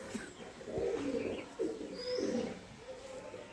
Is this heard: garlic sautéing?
no